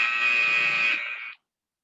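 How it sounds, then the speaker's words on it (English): A steady electronic workout-timer buzzer tone sounds loudly for over a second, then cuts off abruptly into silence. "At the buzzer, swings again."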